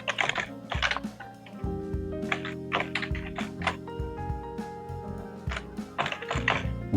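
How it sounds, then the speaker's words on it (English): Someone types an email address on a computer keyboard in quick bursts of clicky keystrokes, close and clear, broken by short pauses and a few heavier thunks. "Right now, I'll just type the email address of someone I want to invite for the meeting."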